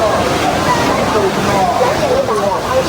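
Rushing river water at Dujiangyan, a steady broadband roar of flowing, sloshing water that stays loud and constant throughout, with faint voices in the background.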